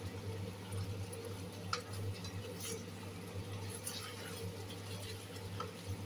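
A spoon stirs a thickening Coca-Cola chicken wing sauce in a pan, making faint soft scrapes and light clicks over a low, steady background hum.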